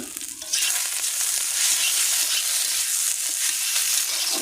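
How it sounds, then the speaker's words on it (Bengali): A spiced potato mixture with tomato ketchup and kasundi fries in a pan while being stirred, giving a loud, continuous hissing sizzle that holds steady from start to finish with no voices. "এটাকে নাড়াচাড়া করবো"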